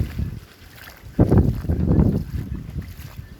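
Strong wind buffets the microphone in rumbling low gusts, loudest in the middle, with a faint watery wash of high-tide floodwater underneath in Hagonoy, Bulacan, and no talking.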